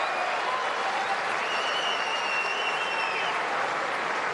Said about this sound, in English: And the crowd comes to life with this brilliant play.